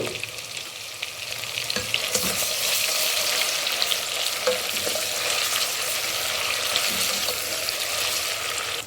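Chopped onion and tomato hit hot oil already used for cooking chicken gizzards, giving a steady, loud, close sizzle and crackle that holds throughout with light stirring scrapes.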